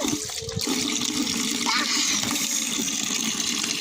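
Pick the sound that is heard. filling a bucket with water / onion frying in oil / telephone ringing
filling a bucket with water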